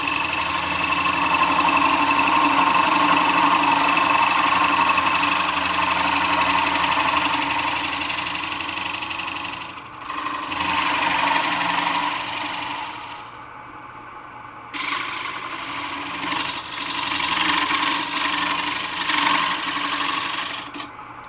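A wood lathe turns a bowl-shaped chip and dip server while a 1/2-inch bowl gouge cuts the outside, giving a steady loud whirring scrape with brief pauses partway through and no talk.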